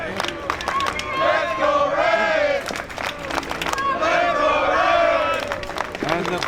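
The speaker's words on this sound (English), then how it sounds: "the crowd is behind Ray as we hear the chant of "Let's go, Ray!"" A wrestling crowd at an independent pro wrestling show chants in unison, rhythmic shouted voices rising and falling in waves, with claps and cheers mixed in, loud and reverberant in the hall.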